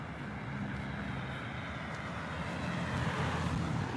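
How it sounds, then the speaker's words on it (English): A semi truck's diesel engine rumbles steadily as it drives past nearby, a loud, continuous low roar with a slight swell toward the end. "I hear this semi engine farting right when he drives by me."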